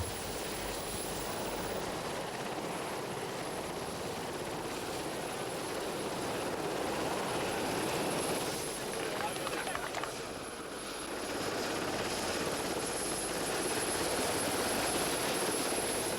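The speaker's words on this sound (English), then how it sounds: "A Sea King helicopter from RNS Culdrose lands on the cliff top nearby." Steady, heavy rotor and engine roar from a landing Sea King helicopter on a cliff top, fairly close, with a slight dip in loudness partway through.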